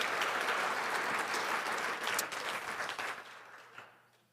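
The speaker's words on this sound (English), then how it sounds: "give a round of applause to our board of directors and our sponsors" An audience applauds board directors and sponsors at a conversation event on wildlife management, a dense burst of clapping that swells briefly and then fades out toward the end.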